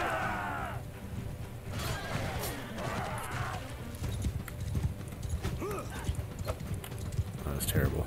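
Horses in a full cavalry charge in Mount & Blade II Bannerlord pound out dense, continuous galloping hoofbeats with a few whinnies, loud and close, while a voice talks over the action.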